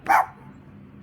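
A dog barks once, close and sharp, in an outdoor garden setting, followed by quiet, with a brief faint sound at the very end.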